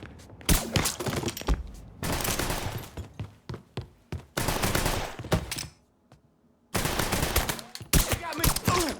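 A shootout in the game Mafia III, with loud, close bursts of automatic gunfire and rapid single shots in several long volleys separated by brief lulls, and no talking.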